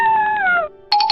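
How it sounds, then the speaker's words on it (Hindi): A cartoon fox cries out in pain with a loud, drawn-out wail that slides downward, then breaks into short pulsing yelps after a brief pause. "लोमड़ी को कौवों की मार से दर्द हुआ और वो चिल्लाने लगी।"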